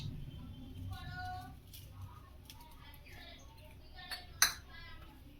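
Paneer pieces are tossed with salt and pepper in a bowl, giving soft scraping and light clinks of utensil against dish, then one sharp, bright clink near the end over a quiet room.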